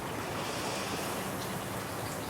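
Steady outdoor water rush, like waves or flowing water, mixed with wind noise, loud and continuous with no breaks and no voices.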